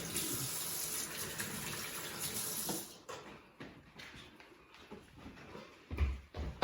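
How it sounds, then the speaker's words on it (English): A tap running into a sink during handwashing in a kitchen, with a steady rushing stream for about three seconds, then stopping, followed by faint splashes and handling noises. "I'll just wash my hands."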